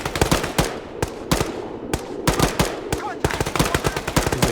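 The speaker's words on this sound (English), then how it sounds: "this firefight could get even more intense" Rapid gunfire in an Arma 3 firefight, close and loud, with sharp cracking shots in quick irregular bursts and occasional single rounds, continuous through the whole stretch.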